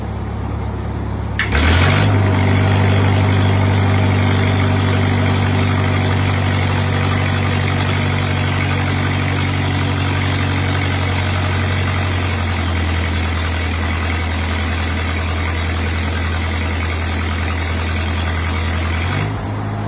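An engine-driven welding machine run at maximum load drones loud and close, starting with a sharp jump in level, lugging steadily at full throttle, then dropping pitch partway through before a brief surge near the end.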